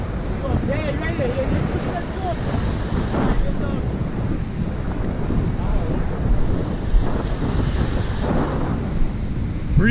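Steady wind rushes across the microphone with low rumbling gusts while fishing off seaside rocks in Trinidad and Tobago, water sloshing faintly underneath, and voices talking intermittently over it.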